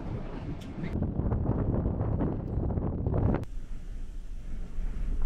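Strong wind buffets the microphone at a coastal viewpoint in Portugal in winter, a loud, steady rumbling roar with gusty fluctuations throughout.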